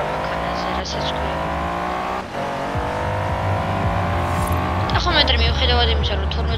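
A Mercedes with a twelve-cylinder engine is driven in Forza Horizon 4 on Xbox. The engine drones and revs loudly throughout, and tires squeal and skid toward the end.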